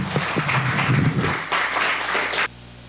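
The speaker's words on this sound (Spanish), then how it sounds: "Denle un aplauso a Dios." Church congregation clapping after a prayer, a burst of uneven applause with scattered sharp claps that stops abruptly near the end, leaving quiet room tone.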